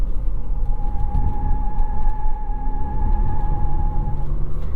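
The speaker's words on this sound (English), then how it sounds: "I am the first person to squeal that corner in a Mitsubishi Eclipse Cross" A 2022 Mitsubishi Eclipse Cross corners on fresh pavement, its tires giving a sustained steady squeal over a continuous engine and road rumble, close and loud throughout.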